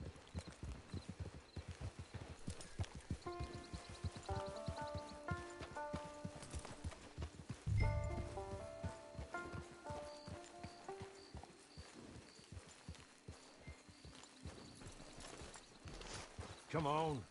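Horse hooves clip-clop steadily through Red Dead Redemption 2 gameplay, a close rhythmic walking beat running throughout under in-game music, with a brief whinny and some voices talking over it.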